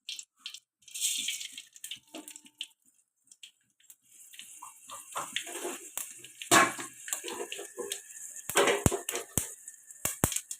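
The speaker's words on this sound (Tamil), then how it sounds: "எண்ணெய் ஊற்றிக்கிட்டு கடுகு போட்டுக்குவோம்" Mustard seeds spluttering and popping in hot oil for a carrot and beans stir-fry, a quiet irregular crackle with scattered sharper pops, close by and without talk.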